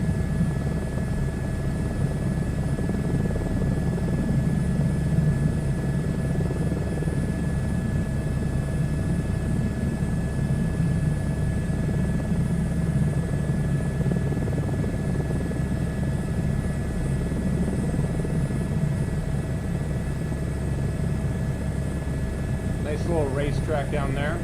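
A helicopter in a VR flight game flies continuously, a steady droning rotor-and-engine hum with low thrum, under occasional spoken talk.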